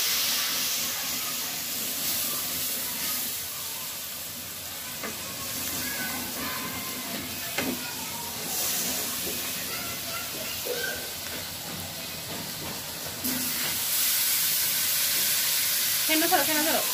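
Ground spices fry in a pan just after water is poured in, giving a steady, close sizzling hiss that runs throughout, with occasional stirring and faint voices in the background.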